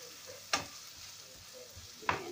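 Tomatoes go into a pan of beef caldereta cooking on the stove, giving a steady soft sizzle broken by two sharper stirring or scraping hits about a second and a half apart, close by and without talk.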